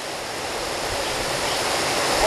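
Water foams and rushes over the remnants of an old sluice gate at the east end of a cattail-ringed pond, a steady close broadband roar that swells slightly louder toward the end.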